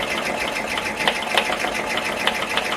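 A commercial embroidery machine stitching on a cap runs with a fast, steady mechanical chatter, small sharp popping ticks recurring through the rhythmic needle strokes, close and fairly loud.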